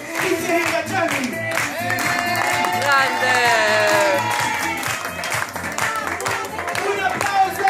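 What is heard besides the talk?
audience applause at a birthday party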